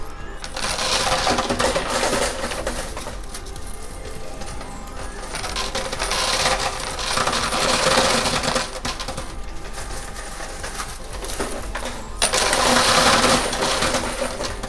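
Quarters dropping in a high limit coin pusher machine, a dense run of metallic clinks and jingles that swells in bursts and continues throughout, fairly close and loud.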